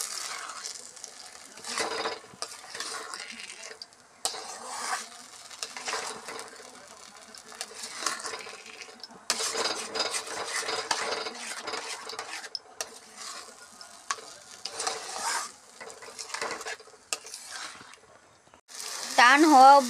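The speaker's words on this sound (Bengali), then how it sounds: "এই দেখুন চিনি দিয়ে ভালো করে নাড়াচাড়া করতে হবে।" A spoon scrapes and stirs a sugary mixture in a pot, the scraping coming in steady repeated bursts with short pauses, close and moderately loud.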